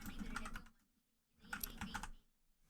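Two short bursts of typing on a computer keyboard, separated by a brief pause, with fairly quiet and close key clatter and no voices.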